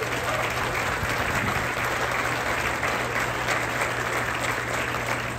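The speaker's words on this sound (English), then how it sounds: "Let's hear a round of applause for everybody who came out this morning" A crowd at the groundbreaking ceremony for the VinFast electric vehicle factory in North Carolina gives sustained, dense applause, a steady roar of many clapping hands with no talking.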